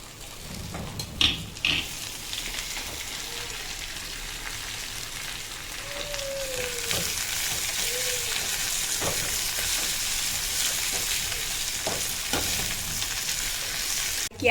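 A bunch of washed mint leaves fries in a pan for spicy pudina pulao, giving a steady, dense sizzle that runs throughout with a few soft stirring clatters and no talk.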